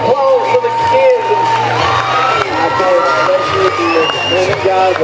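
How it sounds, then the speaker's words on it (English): A rodeo crowd cheers and whoops for the kids in a steady, loud wash of shouting and hollering, with children's voices and scattered clapping mixed in throughout. "How about a round of applause for the kids?"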